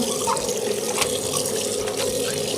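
Water runs and splashes steadily while mustard greens get their third rinse, a close, continuous tap-and-sink wash with faint trickles.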